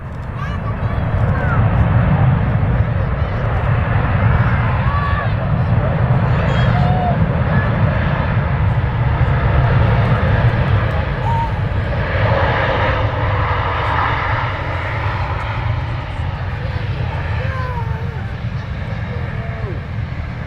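A passenger aircraft carrying up to 299 passengers lands at Manchester Airport, its loud, continuous low engine roar filling the whole stretch, with a person talking over it.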